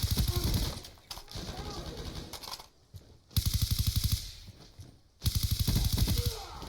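Rapid automatic bursts from the PDW submachine gun in Call of Duty Black Ops 2, fired in several long sustained strings separated by short pauses, loud and close, with brief game voice lines between the bursts.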